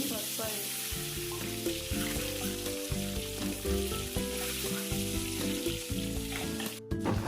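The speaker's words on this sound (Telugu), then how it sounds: "ఇప్పుడు ఆయిల్లో వేయించాలి" Boiled eggs fry in oil with turmeric and salt, giving a steady, close sizzle throughout with melodic background music underneath.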